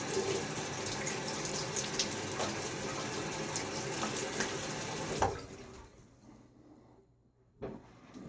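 Tap water runs into a sink to wet a face before a wet shave, a steady broadband stream for about five seconds that then cuts off, leaving quiet with a brief splash near the end.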